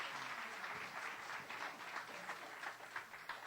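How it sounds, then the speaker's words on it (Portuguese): A church congregation applauds in a steady, dense wash of clapping heard from a short distance, sustained for a few seconds without talk. "Dê uma linda salva de palmas a Cristo."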